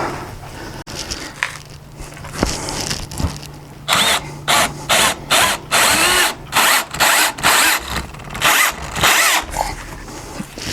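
A power drill tightens down an angle-iron mount on an RV, whirring in a run of short, loud, evenly spaced bursts with brief pauses between them, close by.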